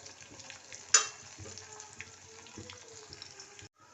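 Mustard seeds frying in hot oil in a kadai for an eggplant curry, with a soft steady crackle and a single sharp pop near the start, all close up and without any talk.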